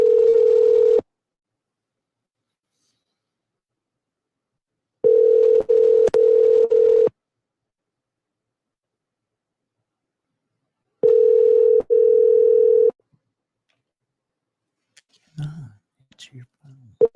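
A telephone emits a steady tone in three separate bursts, a short one and then two longer ones lasting about two seconds each, with silent gaps between them and faint clicks at the end.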